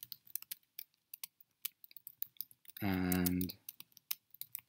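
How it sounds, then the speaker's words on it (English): Quick, light keystrokes patter on a computer keyboard as a name and email address are typed into a web form, with a short burst of speech partway through. "So I'll type in my name, my email address"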